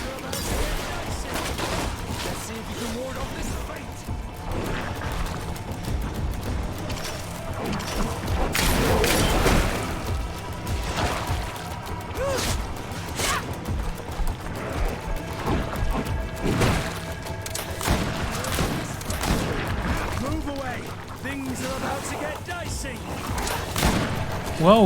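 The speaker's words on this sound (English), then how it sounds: "How about the magic bomb this time?" A magic bomb goes off in the video game GreedFall amid dense combat noise, with a heavy burst standing out midway. Thuds and clashes run throughout, and someone talks over much of it.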